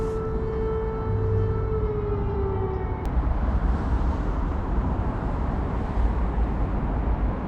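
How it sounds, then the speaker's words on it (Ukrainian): A distant siren on the Dnipro River in Ukraine wails with a steady, slowly falling tone, then cuts off, leaving a dense low rumble of wind or surf. "Знову ця сирена."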